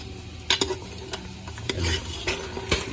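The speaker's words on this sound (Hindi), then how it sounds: "इतना प्याज ब्राउन कर लेना है" Onions brown in a pot of oil for Kabuli pulao with beef, sizzling close by while a spoon scrapes and clanks against the metal in several quick, uneven strokes.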